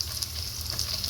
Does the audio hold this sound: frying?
yes